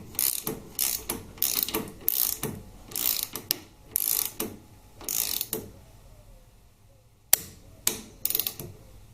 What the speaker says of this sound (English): that lock nut, once torqued up to 27 Newton meters, I've already set the torque wrench